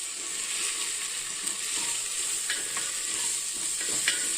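Tomatoes and curry leaves sautéing with turmeric and gravy powder in a pan for a green gram curry give a steady, close sizzle, with light stirring scrapes and clicks throughout and no talking.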